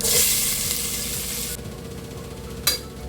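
Onion tipped with cumin into hot oil for tempering a village-style colocasia leaf curry gives a loud, close sizzle. It fades to a softer steady hiss midway, then a single utensil clink sounds near the end.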